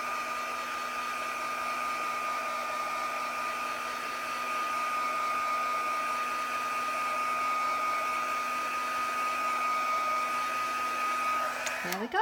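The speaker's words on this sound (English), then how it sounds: "I'm just going to use my heat gun and put it on the single setting, which is like a drier setting." A heat gun set to its low drying setting blows on craft glue, a steady, close whirring hum that holds evenly for about twelve seconds before cutting off with a brief clunk.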